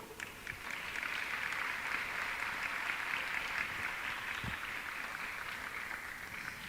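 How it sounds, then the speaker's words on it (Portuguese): At a closing conference session, an audience gives steady applause as a speaker comes on stage. The clapping is even and continuous but fairly faint and distant. "vamos todos recebê-los com nossas calorosas salvas de palmas, a professora Juliana Mordente"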